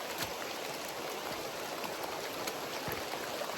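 A river flows in winter with a steady, broad rushing hiss, close and continuous, with small splashes and no voices.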